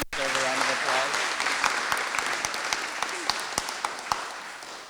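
Wedding guests at the National Art Centre in Ottawa break into a round of applause after a speech, a full burst of clapping that slowly thins to scattered claps, with a brief voice at the very start.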